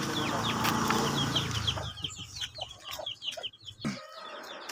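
Several chickens at a home cluck in quick, repeated chirpy bursts over a low background hum; the calls are close and fairly clear, thinning out toward the end with no talking.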